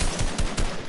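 Rapid gunfire in an online shooter game, a burst of several close, loud shots in quick succession filling the whole moment, with no talking over it.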